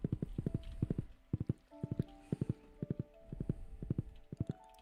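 A horse mount skinned as a bear trots in Stardew Valley, producing steady rhythmic clip-clop hoofbeats in quick clusters of pairs, clear and close, over faint game music.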